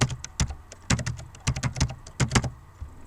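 Computer keyboard typed on while writing a PHP code comment, with close, crisp keystroke clicks in uneven bursts and short pauses, no talking.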